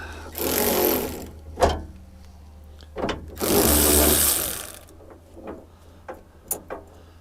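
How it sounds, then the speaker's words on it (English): A 9/16 socket and wrench back a nut off on a Bobcat M-series cab handle, with ratcheting bursts of clicking and scraping, separated by short pauses and single metallic clicks, close by. "using our 9/16 socket and a wrench, of course, we will back this nut off."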